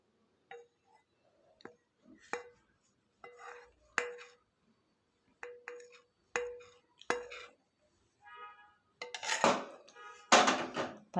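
Caramel for a bread pudding is shifted from a bowl into a cooking vessel, heard as scattered clinks and knocks of utensils against metal and glassware, separated by short pauses and ending in louder scraping clatter.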